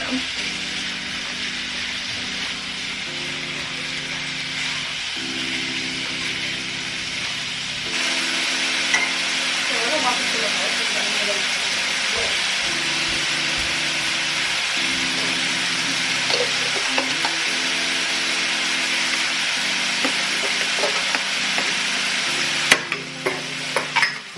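Chicken fajitas sizzle in a pan over medium heat, a steady, close frying hiss that continues throughout above a low, droning hum.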